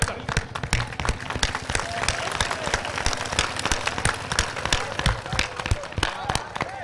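An audience at a ghazal recital claps together, giving dense, steady applause full of sharp hand claps that runs throughout, with voices mixed in beneath it.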